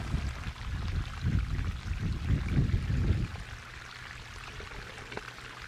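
Laundry water runs and gurgles steadily for about three seconds as it drains toward garden grow beds, then drops to a quieter continuous trickle.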